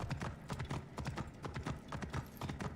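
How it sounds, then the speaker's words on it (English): A horse in the game Assassin's Creed Origins rides through the stone halls of the Temple of Thoth, hooves clip-clopping in an even, repeating rhythm, close and clear with little else around. "I'm riding my horse through the halls of the Temple of Thoth"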